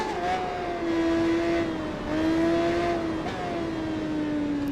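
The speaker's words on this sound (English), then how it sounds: "1000cc engines on these bikes." Racing motorcycle with a 1000cc engine in the game Tourist Trophy, a Honda on a challenge-mode ride, revving high and steady, its pitch climbing and dropping back through repeated gear changes, loud and close with no talk.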